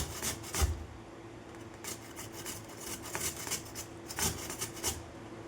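Potatoes being grated by hand on a metal grater for fasting sabudana papad, a run of scratchy rasping strokes at an uneven rhythm, close and fairly quiet.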